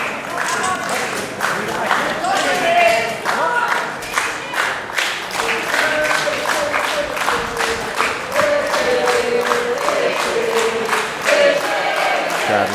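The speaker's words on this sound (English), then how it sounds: "Crowd rallying behind Waterman." A wrestling crowd cheers and rallies behind Waterman in a loud, sustained roar with rhythmic clapping and chanting, while a commentator talks over it.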